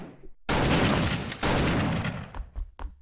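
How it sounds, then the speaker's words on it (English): Rapid automatic gunfire bursts loudly in a video game: one long dense volley, a brief pause, then another sustained stretch that breaks into a few short trailing shots. "Does he have a machine gun?"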